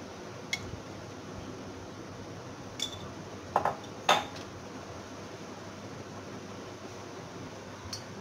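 A kadai pan set on a stove gives a few sharp metallic clinks and taps against a quiet background hum, scattered over several seconds, close up and without speech.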